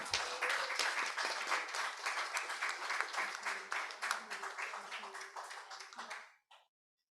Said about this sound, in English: And I think applause is actually very appropriate.